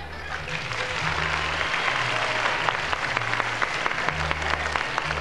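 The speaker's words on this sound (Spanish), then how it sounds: "ustedes avientan el porrazo de aplausos" Crowd at a 1991 norteño Saturday show in Ciudad Mante breaking into sustained applause, dense clapping held steady for several seconds under a droning low music hum.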